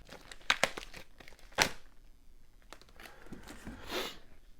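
Stiff plastic packaging crinkles and tears as it is forced open, with sharp crackling bursts near the start and again midway, then a softer rustle toward the end.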